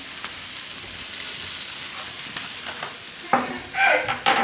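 Capsicum frying in a pan while being stirred, a steady sizzle running throughout, with a few scraping stirs near the end, close and alone without voices.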